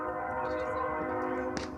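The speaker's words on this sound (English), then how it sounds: "I hear a train." A train horn sounds at a distance over a girls' high school softball game, a sustained, steady multi-tone blast lasting the whole moment with a brief sharp knock near the end.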